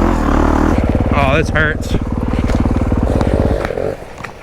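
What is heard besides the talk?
dirt bike engine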